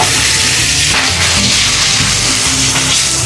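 Pork ribs stir-fried with cucumber in a wok over high heat, giving a loud, steady broadband sizzle with repeated metallic scrapes and knocks of the spatula against the pan.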